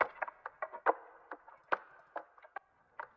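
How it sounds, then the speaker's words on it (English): A tappy percussion loop from a lofi track plays as light, dry clicks and taps in an irregular pattern, soft and alone. "Then this tappy percussion loop kind of thing."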